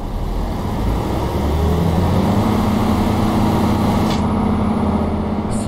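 A bus engine idles in the OMSI 2 simulator's Project Szczecin map, a loud, steady low diesel rumble with a short hiss near the end.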